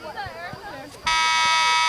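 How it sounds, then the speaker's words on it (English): An electronic buzzer ends the overtime period at a high school girls' varsity soccer game, sounding loud and sustained after a commentator's voice, cutting in abruptly and holding steady to the end. "there's the buzzer for the end of the overtime period"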